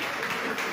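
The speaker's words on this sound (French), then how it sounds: "les applaudissements des militants déterminés" Short, loud burst of applause from party supporters at a municipal election rally in Togo, dense clapping with no break.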